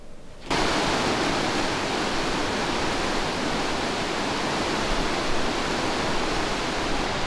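Steady, dense rushing of a flowing river in Swedish Lapland wilderness, loud and continuous after a brief quieter start, with no voices.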